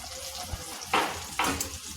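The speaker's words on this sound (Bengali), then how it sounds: "এখন আমি দিয়ে নেব সবজিটা বাগার।" Vegetables tempered (baghar) in a hot pan give two loud bursts of sizzling, each hissing sharply then easing, over a quieter steady frying background with a small clunk between them.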